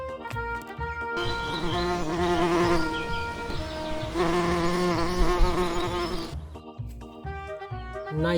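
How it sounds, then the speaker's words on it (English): A honey bee buzzes steadily for several seconds, its drone swelling and holding over a faint musical background that continues before and after. "Sweet bee, honey bee."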